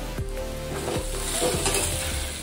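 Tempering spices for dal tadka sizzle and crackle steadily in hot oil, close and continuous, with a few stirring clicks against the pan.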